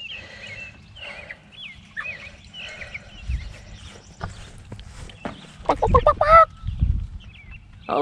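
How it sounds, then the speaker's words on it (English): Four-week-old meat chickens in a field pen give scattered clucks and calls, some near and loud, with a person talking in between. "We have some happy chickens now."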